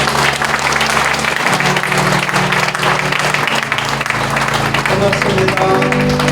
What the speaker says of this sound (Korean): 우리 더 크게 박수 한번 주세요